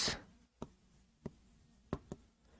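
Pen strokes scratch across paper by hand, a soft initial scrawl followed by four or five short, distinct taps and scribbles at irregular intervals, close and quiet with no talk.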